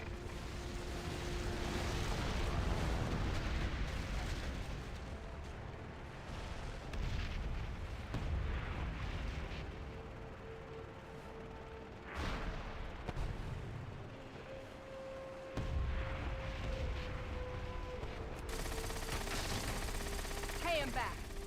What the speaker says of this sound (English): Use your torpedo rockets on those confirmed kills.